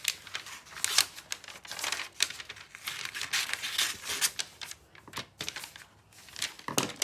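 Paper is cut up up close, with rapid crisp snips and crinkling rustles coming in uneven bursts with brief pauses.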